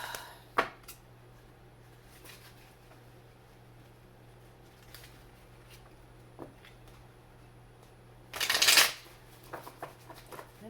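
Oracle cards being shuffled, with a brief burst of riffling and flicking near the end, close by, after scattered soft handling noises over a low steady hum.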